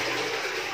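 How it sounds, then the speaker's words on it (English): A toilet flushes during bathroom cleaning to rinse the bowl, giving a loud, close, continuous rush of water with no talking over it. "that's the time, guys, that you are going to flush it again to rinse the toilet bowl"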